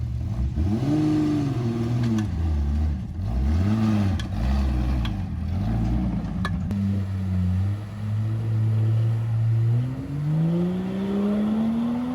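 A Jeep engine revs repeatedly while off-roading, rising and falling in strong surging waves, then settles into a long sustained climb in pitch, loud and close with no talk.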